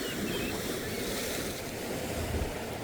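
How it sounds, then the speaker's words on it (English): Waves wash against rocks on a lake bay beside a channel, heard from a fishing boat, with continuous broadband surf noise and wind buffeting the microphone throughout. "Y'all see the waves."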